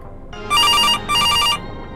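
Telephone bell ringing in a kitchen inside a video game: two loud electronic ring bursts back to back with a short gap, then quiet room tone, no voices.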